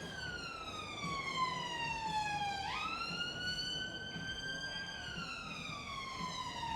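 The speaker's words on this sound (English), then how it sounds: "Ambulance." An ambulance siren wails and sweeps in pitch as it passes, heard faintly at a distance and steady throughout.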